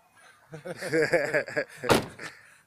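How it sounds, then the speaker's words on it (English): An interior door swings shut with a short, sharp thud that follows a stretch of someone talking, and a faint rattle trails after the impact. "Let me close this door."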